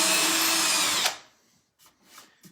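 A power drill with a 1/8 inch bit bores a pilot hole in drawer hardware with a loud, close whine for about a second, then spins down and stops, leaving a few faint clicks and handling sounds.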